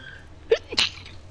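A single sharp human sneeze, short and close, with a quick intake before the burst, during an Apex Legends gaming session.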